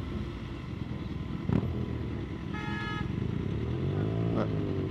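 A BMW S1000 RR ridden in Dakar traffic, its engine droning at a steady mid pitch close by, a short burst of a vehicle horn partway through, and another rev rising near the end.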